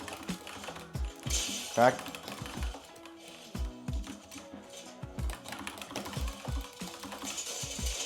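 Typing on a Razer gaming keyboard, rapid irregular clacking keystrokes close up, in bursts with brief pauses, while a person speaks briefly over it.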